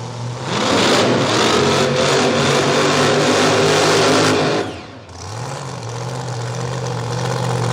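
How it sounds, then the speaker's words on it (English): A supercharged radial drag racing car roars at full throttle with a loud, dense, rasping engine note, cuts off abruptly, then settles into a rough, lumpy idle that rises again. "here we go, the sound of the supercharger"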